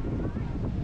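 Strong sea wind at Enoshima buffets the microphone in a continuous low roar, loud and close, with no clear talk.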